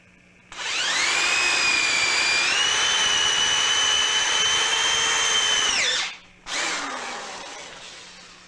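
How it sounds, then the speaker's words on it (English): A power drill drilling into a lightsaber tube whines steadily for about five seconds, pitch rising slightly as it bites, then stops briefly and starts again for a second burst. "So let's start drilling."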